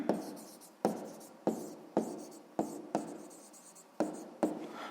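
Pen strokes on paper write out the answer to a sixth-grade maths exercise: about eight short, sharp scratches in an uneven rhythm, close and quiet, with no voice.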